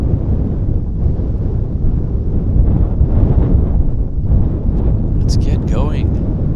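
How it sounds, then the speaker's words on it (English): Strong wind gusts battering the microphone at an airport, a loud continuous roar and rumble throughout, with a faint high whine appearing near the end. "You can hear that wind. It's blowing like a son of a gun."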